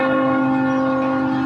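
A large church-style bell, the Liberty Bell, rings with a steady sustained tone, its strong harmonic hum lingering evenly throughout with no voices over it.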